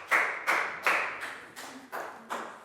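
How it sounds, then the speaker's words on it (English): A Year 4 class applauds a pupil with a run of about seven evenly spaced bursts of clapping, each fading quickly before the next one lands. "Big round of applause for Nadia,"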